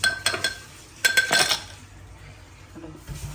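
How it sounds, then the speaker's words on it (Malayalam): Ice cubes dropped into a glass give two clusters of bright clinks and rattles near the start and middle, close and crisp, followed by quieter handling sounds. "നമ്മൾ ഐസ് ആഡ് ചെയ്തു."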